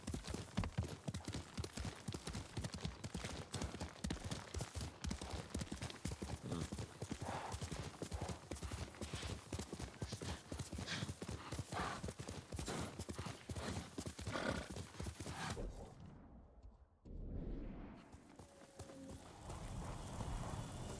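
Rapid, rhythmic hoofbeats of a galloping horse in the video game Ghost of Tsushima pound steadily and loudly, with a brief dip near the end before the gallop resumes.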